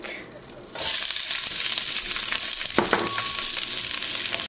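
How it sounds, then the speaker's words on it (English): Onions and garlic hit a hot pan that still holds oil from browning pork, setting off a sudden loud, steady sizzle that runs on with a few stirring scrapes and no talking. "we are going to saute the onions and garlic."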